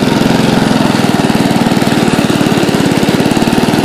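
A Toro self-driven, electric-start lawn mower running close by, with a loud, steady engine chug and a fast, even pulse.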